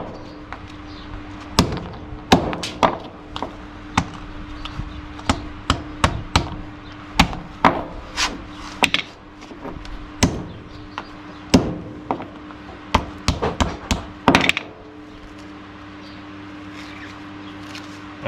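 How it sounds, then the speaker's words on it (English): A hammer strikes brittle plastic while scrap whiteware is broken down for metal recovery, giving sharp irregular cracks and thwacks, some in quick bursts, close by over a steady low hum. "they'll break when you hit them with the hammer, as it's busy doing."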